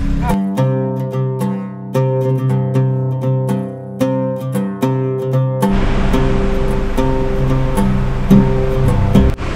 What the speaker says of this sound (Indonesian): Oh, itu ada air terjun ya?